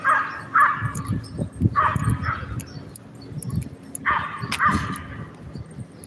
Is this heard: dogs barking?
yes